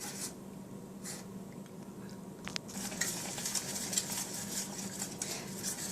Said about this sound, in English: I'm going to continue to stir this and hang on to it until it's thickened,